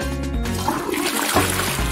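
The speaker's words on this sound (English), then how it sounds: "Why isn't it flushing?" A toilet flushing in a cartoon bathroom, a steady rush of swirling water running loud and close for the whole stretch with no talk over it.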